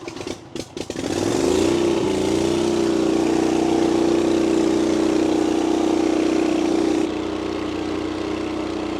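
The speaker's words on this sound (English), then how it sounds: "when I crank the mower up" A lawn mower engine cranks with a few sputters, then catches and settles into a loud, steady drone that runs for several seconds before easing slightly near the end.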